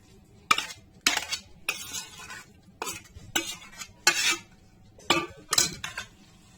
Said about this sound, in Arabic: اقلب ده كله كده على الخضار